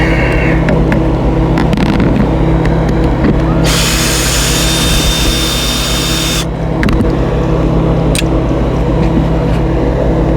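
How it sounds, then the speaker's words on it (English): Power tool backing screws out of a sealant-covered RV roof vent, a loud continuous motor whine with a sharper burst in the middle, over heavy steady background rumble. "It's just getting the screws out now."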